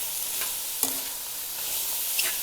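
Vegetables with green chilli and chilli flakes frying in a pan for Indian-style chicken macaroni pasta, a steady close sizzle broken by a couple of sharp stirring scrapes and clinks, no voices.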